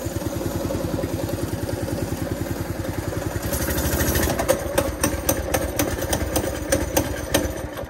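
A Baja Warrior minibike's small engine runs steadily close by, with a fast, chugging idle pulse that turns rougher and more ragged partway through, mixed with sharp mechanical clatter and knocks.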